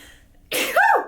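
A single sharp sneeze close by, bursting out of near silence with a voiced tail at the end.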